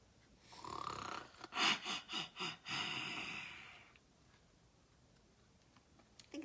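A person's voice imitates a pig yawning noisily and grunting, a drawn-out breathy rasp broken into about five rhythmic snorting pulses, then fading into quiet.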